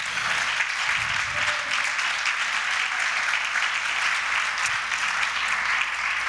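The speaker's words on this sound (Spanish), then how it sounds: "Dale un aplauso de gloria a Él." A church congregation applauds in praise, a dense steady wash of many hands clapping that holds evenly throughout, with faint voices underneath.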